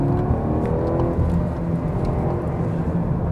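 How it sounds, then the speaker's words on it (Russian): Engine of a BMW 320i xDrive with M package, heard from inside the cabin as it accelerates on the road; a steady, fairly loud hum and rumble persists throughout, with no one talking. "Но если газку дать, сейчас у нас будет участочек"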